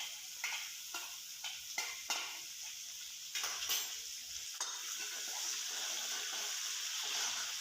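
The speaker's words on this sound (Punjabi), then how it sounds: "ਤੁਸੀਂ ਪਿਆਜ਼ ਤੇ ਲਸਣ ਵੀ ਪਾ ਦੇਣੀ ਆ ਇਹਨਾਂ ਨੂੰ ਆਪਾਂ ਥੋੜਾ ਜਿਹਾ ਫਰਾਈ ਕਰਨਾ" Onions and garlic frying with asafoetida in a pan, a steady hiss of sizzling oil with intermittent clinks and scrapes of a spoon stirring near the start.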